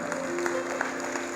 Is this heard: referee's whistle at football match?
no